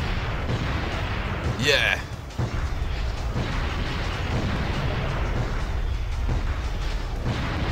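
Heavy weapons fire from the video game Dino Crisis 2 on hard mode, a continuous loud barrage of booming shots, with a player shouting excitedly over it.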